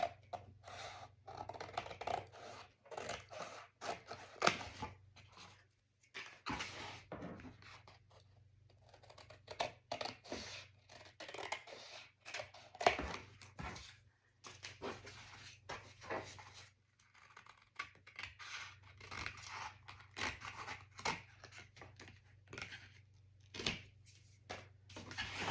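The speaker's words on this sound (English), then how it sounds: "now we're gonna cut our corners along that pencil mark" Scissors snip through paper, trimming the corners of an 8.5 by 8.5 inch album base along a pencil line. Repeated crisp cuts and scratchy rustles come up close at an uneven rhythm, with a steady low hum underneath and no talking.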